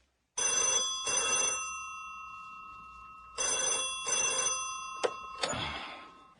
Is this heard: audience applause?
no